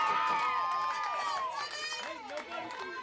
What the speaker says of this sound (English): The Wenatchee crowd is definitely pumped up for this, making a lot of noise.